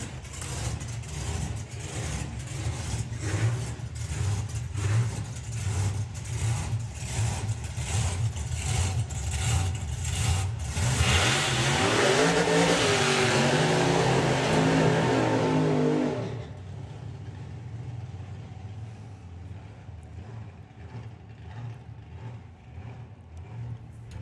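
Supercharged Outlaw hot rod drag cars at Santa Pod Raceway, engines burbling loudly with rhythmic revs, then rising to a roaring full-throttle launch that cuts off abruptly, leaving quieter distant engine rumble.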